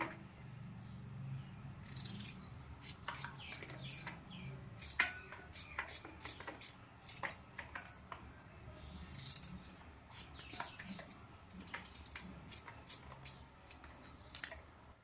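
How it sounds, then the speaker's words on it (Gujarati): An apple being sliced with a knife gives a series of quick, crisp cutting ticks and snaps in an irregular rhythm, close and fairly quiet, with a faint low background hum. "આપણે તો આવી રીતે એપલને સમારી દેશું"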